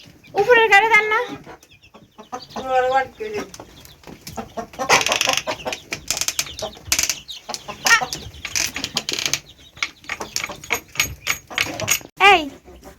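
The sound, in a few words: chickens clucking on a small farm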